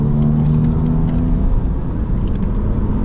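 A car is driven flat out on a wet Nürburgring, heard from inside as a steady, loud engine roar mixed with dense road and spray noise, with no one talking.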